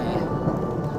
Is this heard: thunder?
yes